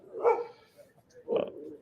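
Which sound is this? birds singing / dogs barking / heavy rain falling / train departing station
dogs barking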